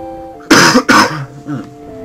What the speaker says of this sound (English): I apologize about the coughing in.